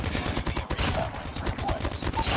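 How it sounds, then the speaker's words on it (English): Assault rifle fire from the mobile shooter game Call of Duty Mobile, a rapid, dense stream of loud shots played through the game, continuous for the whole stretch. "loading down with my uh, assault rifle that works like an LMG"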